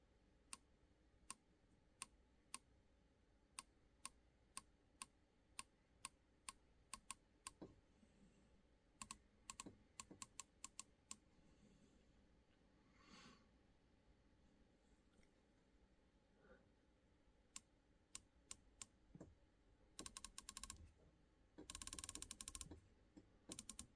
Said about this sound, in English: let you just listen to the sound of it.